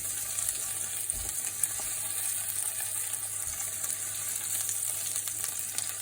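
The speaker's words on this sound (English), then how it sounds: "the pork ribs are sizzling away nicely" Pork ribs and red pepper frying in a pan for a couscous dish, giving a steady, even hiss of sizzling fat at close range, with a couple of faint low knocks and no talking.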